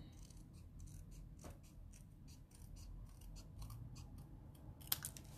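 Scissors cut paper for a papercraft silhouette, a run of faint, quick, rhythmic snips and crisp blade clicks heard up close in a quiet room, with no talking.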